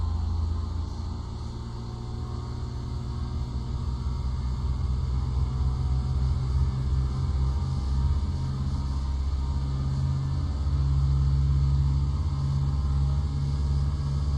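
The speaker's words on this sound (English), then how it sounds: "You could hear the engine revving." A Cessna 172 engine drones steadily during run-up and then rises in pitch as it revs up, a loud, continuous, close rumble with no voices.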